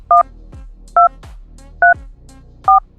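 Four short two-tone telephone keypad beeps, evenly spaced about a second apart, loud and clear over faint background noise.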